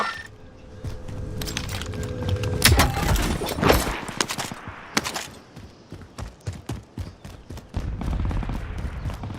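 Rapid bursts of gunfire in a military shooter game, sharp cracks and rattling volleys starting around the third second and continuing in uneven clusters at close range, mixed with clinking and other game effects.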